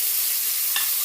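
Tomatoes going into a hot pan for Filipino ginisang monggo: a continuous bright sizzle and hiss throughout, with a brief louder crackle near the end.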